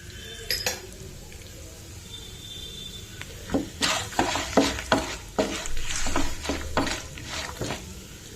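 Mustard and other tempering seeds sizzle and crackle in hot oil while a utensil scrapes and taps against the pan in a steady stirring rhythm.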